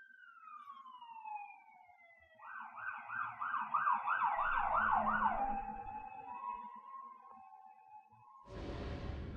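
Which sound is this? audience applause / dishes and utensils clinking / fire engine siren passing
fire engine siren passing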